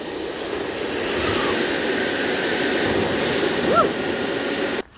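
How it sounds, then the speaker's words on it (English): Gusty wind blowing steadily outdoors at a bike park with a large mulch jump, a broad rushing roar that holds across the whole stretch before cutting off abruptly near the end. "It's a bit windy today."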